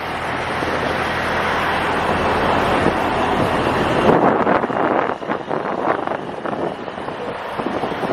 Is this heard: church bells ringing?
no